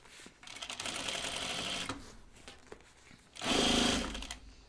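Home sewing machine stitching a roughly 6 by 4 foot quilt, running in two bursts of steady rapid stitching separated by a quieter pause, close and fairly loud.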